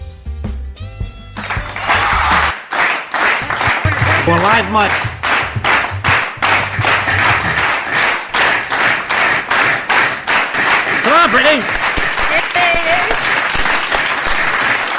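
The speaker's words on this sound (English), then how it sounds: "Are you clapping for me?" A small studio audience claps steadily through the whole stretch, with cheers and whoops breaking in while people talk over the applause.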